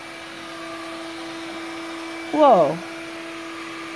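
A Bissell Lift-Off stick vacuum cleaner hums steadily at close range with a whining motor tone, while a child gives a brief surprised exclamation partway through.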